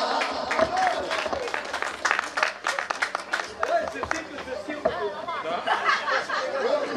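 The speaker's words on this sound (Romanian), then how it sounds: "Aplaudați-l!" Audience at a village winter holiday celebration with Christmas tree lights being switched on in Bârsănești, clapping for a man about to sing carols; scattered applause mixed with crowd chatter and chuckles, fairly steady throughout.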